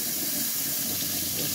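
Warm water runs steadily from a tap into a sink for hair washing, a continuous close hiss and splash with no talking.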